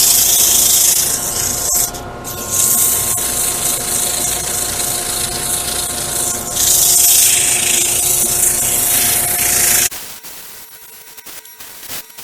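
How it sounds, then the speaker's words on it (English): A wooden salt and pepper mill is sanded on a Rikon 70-220VSR midi lathe while a dust collector runs, giving a loud, steady broadband hiss and rush with a faint tonal hum. The sound drops away near the end. "time to sand now. Got the noisy dust collector going again."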